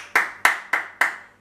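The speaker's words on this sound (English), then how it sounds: "I must clap" Four sharp, loud hand claps from one person, close by and evenly spaced about a third of a second apart, each decaying quickly into near silence.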